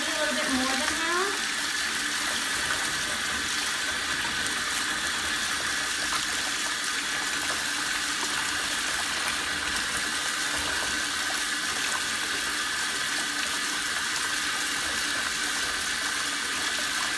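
Water runs steadily into a jetted bathtub with a Halloween mummy bubble bar dissolving in it, a constant broadband rushing roar that carries on unchanged, with a brief quiet voice at the very start.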